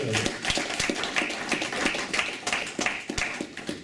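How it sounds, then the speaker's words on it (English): An audience at a community celebration in Milton Keynes claps continuously with sharp, irregular hand strikes, moderately loud and close, with no voices over it. "So give yourselves a clap, because you really deserve it."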